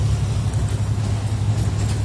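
Busy street traffic on a Havana avenue near a canal, a steady low rumble of passing cars and buses close by with no talking.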